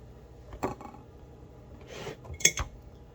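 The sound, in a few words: stovetop stuffing being put into a baking pan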